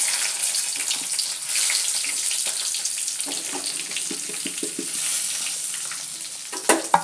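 Eggplant frying in a pan with spice powder, a loud steady sizzle with scattered crackles and small clinks toward the end; no speech.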